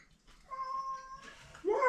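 A cat meows a few times at close range, clear tonal cries rising and falling, with a person's voice also imitating meows nearby.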